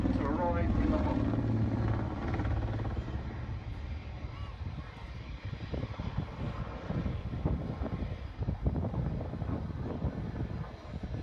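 An Apache helicopter at the Farnborough Airshow 2016 swings through a 360-degree quick stop into a hover, its rotor and engine a steady, distant roar under a commentator's voice.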